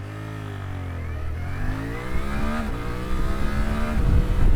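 A 2025 Suzuki V-Strom 800RE motorcycle engine revs up steadily with rising pitch, drops briefly at a gear change, then climbs again, loud and close with wind rumble.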